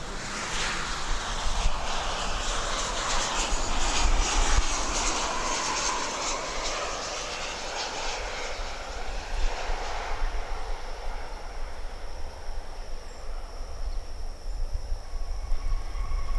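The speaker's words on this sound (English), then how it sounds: "we've got American Flight 2196 arriving from Austin, Texas, 737-800" An American Airlines Boeing 737-800 arriving from Austin at DFW Airport at daybreak roars past, loud broadband jet noise swelling early and then fading into a distant rumble, with no talk.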